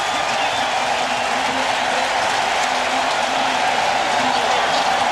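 A stadium crowd at an NFL football game roars and cheers steadily, a broad wash of many voices that stays loud throughout.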